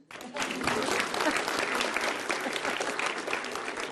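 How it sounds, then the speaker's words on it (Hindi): A crowd at a political debate breaks into sustained, dense applause that carries on steadily throughout, loud and continuous. "भगवान राम हो तो ताली बजा दो भाई"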